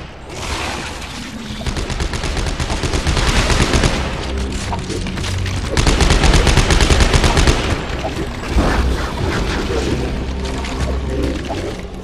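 Sustained automatic gunfire from Dead Space 3 rattles loud and dense for most of the stretch, with rapid bursts and heavy low booms layered over a busy game soundscape.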